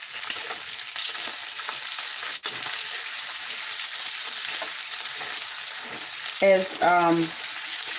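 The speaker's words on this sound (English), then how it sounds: "I'm cooking them in bacon grease" Eggs sizzle steadily in hot bacon grease in a pan, a constant crackling hiss with a brief clink and a short squeaky scrape near the end.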